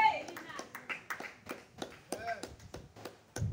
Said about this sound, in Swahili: Si upige makofi hata kama utaki.